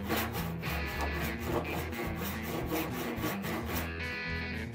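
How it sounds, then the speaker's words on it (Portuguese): A back saw cutting through wood, with steady rapid rasping strokes that are loud and close and continue without a break. "Vou pegar aqui o serrote de costa, também para tentar fazer esse corte."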